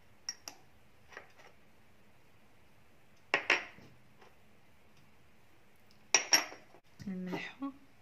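Spices being spooned into a cooking pot for a beef feet and chickpea stew: light metallic clinks and taps of a small spoon against the pot, a few scattered strikes then brief clusters, quiet and close with no talk.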